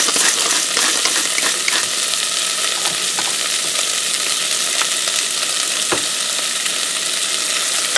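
Onions frying for French onion soup, seasoned with salt and pepper, sizzle steadily and loudly in a pan while being stirred, with scraping and clinking of the utensil through the constant hiss.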